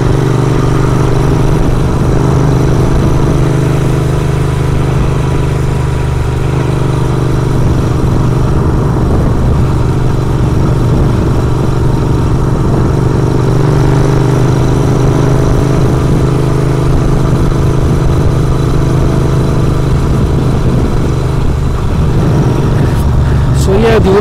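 Royal Enfield Interceptor 650 motorcycle being ridden, with a steady, loud low engine drone and heavy wind rumble running continuously throughout and no clear changes in pace.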